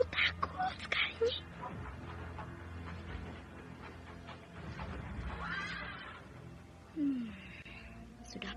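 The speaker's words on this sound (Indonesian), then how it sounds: "Kereta kuda itu memang berhenti di depan rumah ini." A horse neighs and whinnies near a house where a horse-drawn carriage has stopped, with faint hoof clops, heard among dramatic voices.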